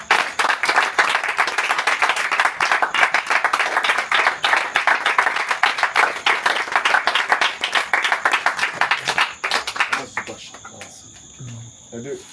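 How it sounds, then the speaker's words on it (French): A church congregation at a mission service in Cameroon claps and applauds for the Lord, with steady, dense, loud crowd clapping that fades out near the end. "Est-ce qu'on peut acclamer le Seigneur?"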